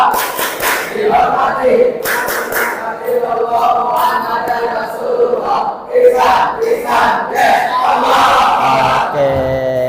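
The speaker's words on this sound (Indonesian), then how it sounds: "kita akan tepuk bersama-sama. Ayo, tepuk anak soleh." A classroom of children loudly chants the rhythmic 'tepuk anak soleh' clapping song in unison, sharp hand claps punctuating the sung phrases throughout, led by their teacher before a lesson.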